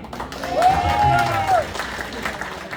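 Crowd applause at a PDP Laban Christmas party, a dense wash of clapping under a single drawn-out voice or cheer, moderately loud and continuous.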